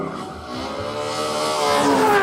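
A Ferrari F12, a front-engine V12 supercar, drives past with a steady engine note that rises in pitch and grows louder as it accelerates, heard alone without any talk.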